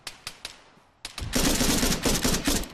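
Enemy gunfire in Arma 3 opens with a few separated shots, then breaks into loud, dense automatic bursts that rattle on continuously at close range.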